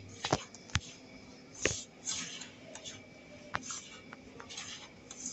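Hands kneading oiled dough close up, a quiet series of soft squishes, slaps and rubs at an uneven pace, with no one talking.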